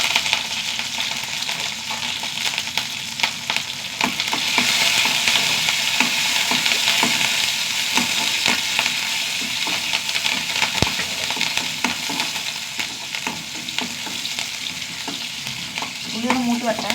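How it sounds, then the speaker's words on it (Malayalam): Sliced shallots, dried red chillies and curry leaves fry in a pan for chutney, giving a steady, loud sizzle close by with occasional spatula scrapes and stirring knocks throughout, no talking. "ഉള്ളി ഒന്ന് മൂത്ത് വരട്ടെ."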